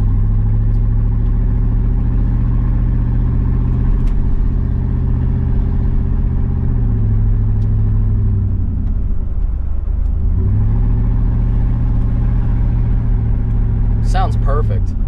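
A Chevrolet Blazer truck engine with a DIY saw-cut exhaust rumbles loudly and steadily up close, dipping once and then rising back in a single rev before settling into its deep drone.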